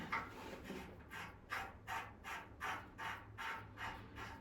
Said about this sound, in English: Now, let's screw the hose on.